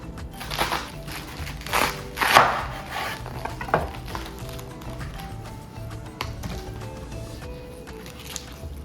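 A knife cuts through a fresh, crisp head of cabbage, giving a few loud crunchy splitting sounds in the first seconds, followed by lighter clicks and handling noises close by with no talking.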